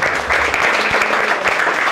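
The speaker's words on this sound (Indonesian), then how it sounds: "Berikan sorak-sorai buat Tuhan." A church congregation cheering and applauding, dense continuous clapping from many hands filling a large room, steady and loud for the whole stretch.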